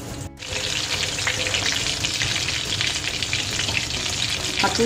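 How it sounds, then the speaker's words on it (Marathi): Chicken pieces deep-frying in hot oil for chicken chilly, a continuous loud crackling sizzle with a brief dip near the start and a louder bubbling burst toward the end, no talking. "तर आपण हे बाकीचे याच पद्धतीने तळून घेऊया।"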